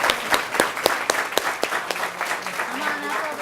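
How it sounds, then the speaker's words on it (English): Audience at a school board meeting claps for students with perfect English Language Arts scores, a strong run of sharp, distinct claps that starts loud and continues steadily, with a voice speaking faintly near the end. "Let's give them a big round of applause."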